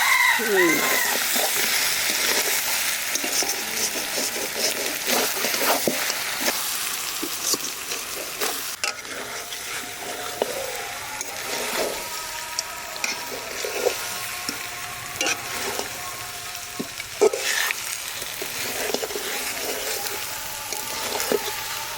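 Mutton being sautéed with onions in a pan for a grandmother's home-cooked meal, a steady sizzling fry with stirring scrapes throughout, close and moderately loud, with brief speech at the start.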